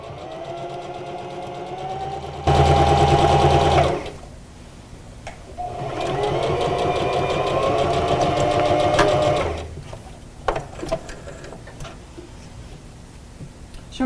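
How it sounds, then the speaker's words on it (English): A sewing machine stitches down the folded seams of an Olson fabric mask in two steady whirring runs, each a few seconds long, loud and close, with quieter handling clicks between and after. "folding over the seam, and then sewing those down"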